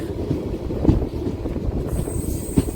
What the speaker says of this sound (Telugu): విశాఖపట్నం నుంచి లింగంపల్లి వెళ్ళే జన్మభూమి సూపర్ ఫాస్ట్ ఎక్స్ప్రెస్ వస్తుంది చూడండి ఇప్పుడు